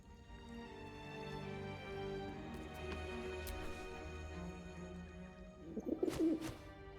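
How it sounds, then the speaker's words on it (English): In Baldur's Gate 3, a pigeon gives a few soft, low coos near the end, faint over a steady ambient game drone with light clopping sounds. "The pigeon carries itself with an air of dignity, its mannerisms stern and commanding."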